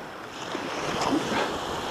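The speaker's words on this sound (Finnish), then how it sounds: "Sitten täällä on aika miehekkäitä aaltoja" Sea waves wash against a rocky shore in the Åland Islands, a soft continuous surf with wind noise, faint and steady, with no speech.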